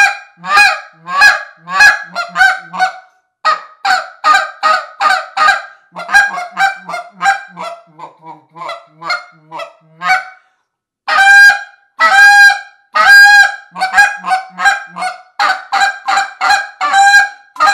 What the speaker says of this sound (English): let's go ahead and give this Buck Gardner call a toot and see how it sounds